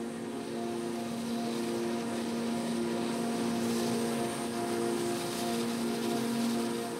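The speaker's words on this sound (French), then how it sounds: "2 avions s'apprêtent à décoller pour livrer les armes promises au président Siles Oiseau" Two airplanes prepare to take off on an airfield, their engines droning in a steady loud hum with a constant low tone and no voices.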